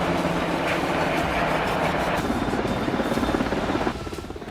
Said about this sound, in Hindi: यह है अगस्टा वेस्टलैंड का EH-101 हेलीकॉप्टर, जिससे कमांडो एक जंगी जहाज पर उतर रहे हैं।